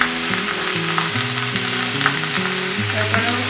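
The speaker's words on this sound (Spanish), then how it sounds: "Lo seguimos cocinando a fuego bajito, porque como les digo, queremos que la cebolla se nos suavice" Onions sizzle steadily in a pan with garlic salt and Worcestershire sauce over low heat, a constant close frying crackle while background music plays underneath.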